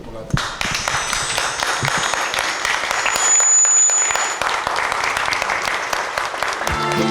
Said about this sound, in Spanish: simplemente cerramos por acá con un aplauso